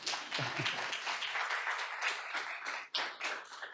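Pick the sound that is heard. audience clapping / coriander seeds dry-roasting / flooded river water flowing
audience clapping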